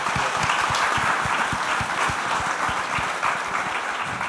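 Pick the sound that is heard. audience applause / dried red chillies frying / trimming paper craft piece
audience applause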